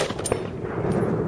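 Japanese Type 11 light machine gun firing a quick burst of sharp, loud reports in rapid succession, close by and dominating the moment.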